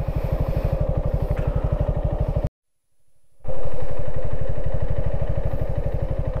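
A motorcycle engine labors up a steep road with a fast, loud, pulsing chug, briefly cutting out before resuming stronger and steady.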